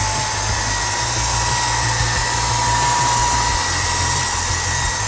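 A Redroad cordless stick vacuum cleaner runs in medium mode in a kitchen, giving a steady, close, loud motor whine with a low hum beneath and no pauses or voices.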